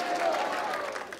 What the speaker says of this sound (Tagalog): Pumalakpak sa ating Panginoon.